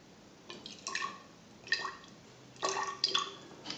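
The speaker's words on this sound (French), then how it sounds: "je verse les 10 ml d'eau à la surface" Ten millilitres of water trickle onto the surface of a cocktail in a few short splashy bursts, quiet and close, with brief pauses between pours.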